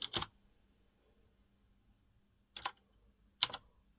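Short bursts of key clicks come from the keyboard of a MEGA65 computer, a C64-compatible machine, with three brief clusters of taps separated by quiet pauses, close and fairly soft.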